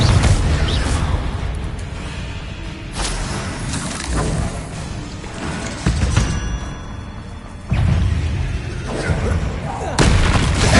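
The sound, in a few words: Confringo blasting spell explosions, Hogwarts Legacy video game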